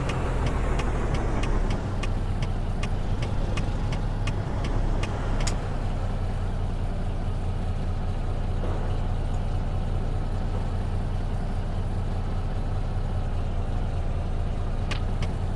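A wheel loader's diesel engine runs loud and close throughout, a steady heavy rumble with sharp air-brake-like hisses and clanks in the first few seconds.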